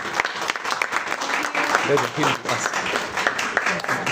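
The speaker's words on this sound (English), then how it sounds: "let's give a round of applause to the mentors." Book-launch audience applauding the mentors, a continuous patter of clapping from a room of people with voices speaking over it.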